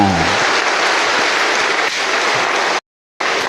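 Applause from a church congregation at a diocesan synod celebration, a dense steady patter of many hands filling the room, continuing for about three seconds before breaking off abruptly into silence, then resuming briefly.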